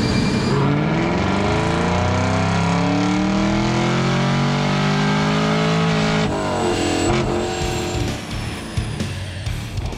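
A 2018 Chevrolet Camaro ZL1 with a supercharged engine revs hard on a chassis dyno during a baseline pull, the loud engine note sweeping steadily upward through the gears before backing off near the end.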